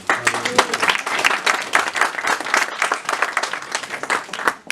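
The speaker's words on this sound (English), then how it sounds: "A warm round of applause to all of you and the children for making the puppets and for being our audience today." A warm round of applause from an audience of adults and children at a puppet show, dense rapid clapping that stays fairly even throughout, with a brief voice near the start.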